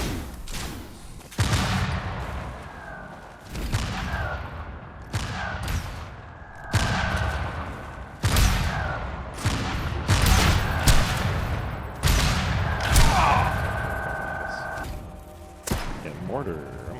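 Mortar rounds in Tribes 3 thump out, bounce and explode in a string of loud, sharp booms spread over several seconds, with a player talking between blasts.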